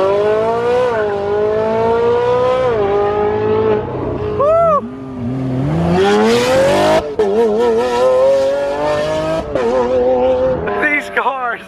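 A loud Ferrari supercar driven in Dubai roars up through its revs in long rising pulls, with sharp gear-change dips and crackling bursts, close and dominant throughout.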